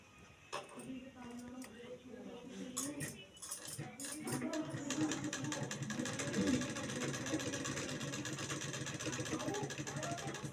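A sewing machine stitches a concealed zip, starting with a few short bursts before settling into a steady close whirring run, while a voice talks over it.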